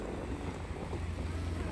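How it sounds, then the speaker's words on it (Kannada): Steady wind blows by open water on a rainy-season day, a broad, continuous rush with low rumble, close and fairly even throughout, with no voices. "ಚೆನ್ನಾಗಿದೆ ಅಲ್ವಾ ಗಾಳಿ"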